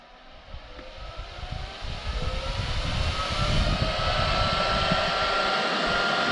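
A Kitfox 7 Apex aircraft engine runs on the ground, with a steady propeller drone that climbs and swells in loudness as it runs up, then holds a strong, even roar.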